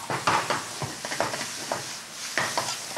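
Rice noodles and prawns for pad thai being stirred in a frying pan, with close scraping and tossing strokes at an irregular rhythm over a soft, steady sizzle.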